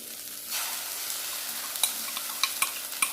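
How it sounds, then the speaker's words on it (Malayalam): Beaten egg hits a hot, lightly oiled pan for a Kerala-style thoran, erupting into a loud, steady sizzle after a quiet start, with a few sharp spatula scrapes and taps over the frying. "സമയത്ത് നമുക്ക് മുട്ട ഇതിലേക്ക് ഒഴിച്ച് കൊടുക്കാം"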